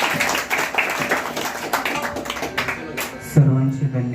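An audience at an impromptu vocal performance claps in scattered, irregular bursts, and a sustained musical tone enters near the end.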